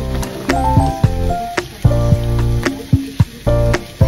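Thai green chicken curry cooks in a pan with a spatula pushing it around, making a loud, close run of squeaky scrapes and bursts of sizzling.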